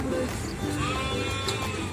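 Sheep or goats bleating at a sheep farm in Lampang, Thailand, while animals are being fed; steady farmyard din with bleats running through the whole short stretch, fairly close, with faint voices mixed in.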